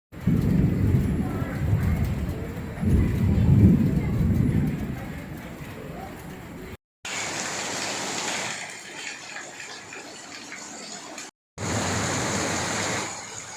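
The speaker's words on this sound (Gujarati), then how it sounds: "હાલ વીજળીના કડાકા સાથે ધીમી ધારે વરસાદ પણ ચાલુ નોંધાઈ રહ્યો છે" Steady light rain falls in Savli, Gujarat, with a broad rushing hiss, broken by short gaps; a low thunder rumble and a voice are audible in the first half.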